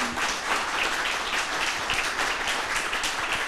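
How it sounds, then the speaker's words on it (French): Studio audience applauding on a French-language television talk show set as a guest author and teacher arrives, a steady dense patter of many hands clapping throughout, fairly close and continuous. "Applaudissements"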